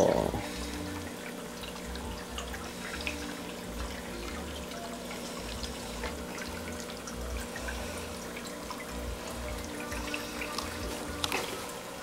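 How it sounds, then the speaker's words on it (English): Cold water runs steadily from a tap for about twelve seconds, a continuous trickling and splashing with small drips, fairly faint, with a low steady hum underneath and no talking. "Cold water."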